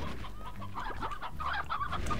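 Game hen from Slime Rancher clucking in short, repeated bursts over a steady game background hum, close and moderately loud, without speech.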